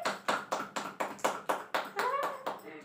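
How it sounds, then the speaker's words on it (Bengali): Hand clapping at a small home anniversary cake cutting: about ten steady, evenly spaced claps close by, with a voice speaking over the last few. "এটা হাততালি দে, হাততালি দে"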